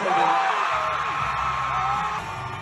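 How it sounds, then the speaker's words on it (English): A political rally crowd in Jacksonville, Florida greets Governor Ron DeSantis with loud cheering, whoops and yells over a continuous roar of many voices, easing slightly toward the end. "Ron DeSantis gets a huge round of applause."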